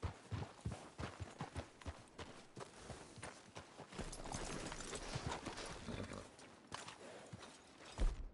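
Steady clip-clop of horse hooves walking at an even rhythm, fairly close, with faint creaks and mechanical noise underneath and no talking, in the video game Red Dead Redemption 2.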